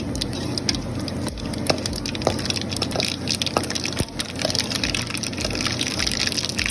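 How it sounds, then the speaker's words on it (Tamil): Mustard seeds crackle and pop in smoking-hot oil, with scattered sharp spits over a steady sizzle while making Tamil-style puliyodharai. No one speaks. "இந்த டைமில் கடுகை சேர்க்கணும் கடுகு பொரியணும்"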